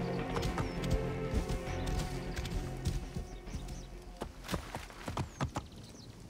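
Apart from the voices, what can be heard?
horse galloping in a video game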